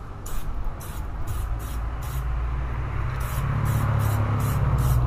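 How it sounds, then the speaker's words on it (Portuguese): Foaming tire shine hisses from an aerosol can onto a car tire in a series of close, rhythmic sprays, each a short burst of roughly half a second over a low background rumble. "Limpa o pneu e deixa pretinho, mano. Mas o negócio solta uma espuma, tá ligado?"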